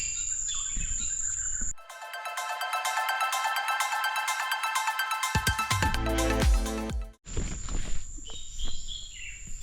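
Birds call outdoors in a few sharp chirps over a steady high insect drone, with a dense ringing, buzzing stretch in the middle.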